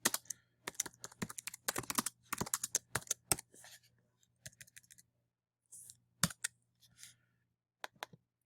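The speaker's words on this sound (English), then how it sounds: "I'm not doing too well typing today," Bursts of rapid keyboard typing, close and crisp, with uneven pauses between clusters of keystrokes; no talking.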